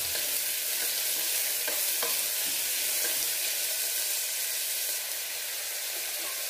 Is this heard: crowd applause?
no